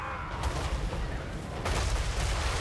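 Cannon fire in a Total War: Warhammer 3 battle booms in a dense, continuous barrage, with overlapping blasts and heavy rumble filling the whole stretch, loud and close.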